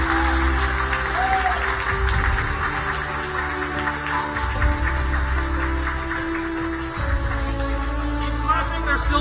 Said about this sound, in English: Keep clapping, they're still walking.